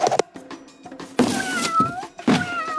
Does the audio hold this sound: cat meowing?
yes